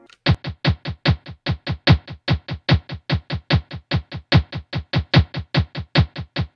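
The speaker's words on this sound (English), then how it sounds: "I'm using the stop perk from my trap drum kit." Stop percussion sample from a trap drum kit plays a fast, steady pattern of sharp, punchy hits, roughly four per second, close and loud with nothing else underneath.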